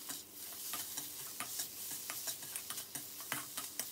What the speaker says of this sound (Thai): ให้เราเติมน้ำตาลลงไป1ช้อนชานะครับเพื่อตัดรสชาตินะครับแล้วให้เราคั่วต่อจนไข่ของเรา